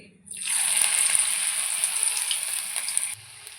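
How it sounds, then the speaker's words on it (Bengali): Small cabbage pakoras dropped into hot oil in an iron wok set off a sudden loud, steady sizzle that hisses continuously up close for about three seconds before cutting off, with no talk. "এখন আমি ছোট ছোট করে বড়া ভেজে নেব।"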